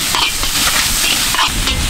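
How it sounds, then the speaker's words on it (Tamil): Crushed masala sautéing in a pan for a Kerala-style chicken dish, with loud close sizzling and repeated scraping stirs over a short stretch, with no talking. "பச்சை வாசம் போக வதக்கிக்கங்க"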